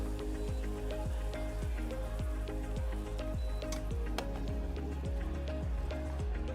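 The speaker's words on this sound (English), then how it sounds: "we're just going to let that simmer" Mexican street corn soup simmering in a pot at a food expo, giving a steady, close crackle of small bubbling pops and sizzles that continues evenly throughout.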